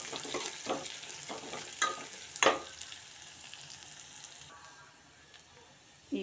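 Curry leaves frying in hot oil in a pan for a horse gram stir-fry, a steady close sizzle and crackle with a few sharp pops and stirring scrapes, fading toward the end.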